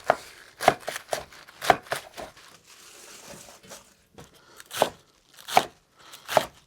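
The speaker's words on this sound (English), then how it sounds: "For the nappa cabbage, when you make kimchi, you can make kimchi with the whole piece and salt it down. We're going to make it a lot faster. We're just going to slice it all the way down." Knife slicing napa cabbage on a cutting board for kimchi, a series of crisp crunchy chops arriving in irregular bursts, close and clear with no talk.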